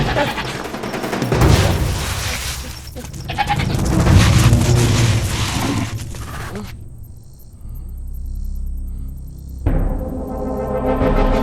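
Loud, close goat bleats with wavering cries, followed by a sudden shift to a harsh electronic buzz and rumbling noise.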